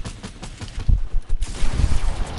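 Gunfire in Fortnite: a short, dense flurry of overlapping shots and thumping impacts, loud and close, with no speech.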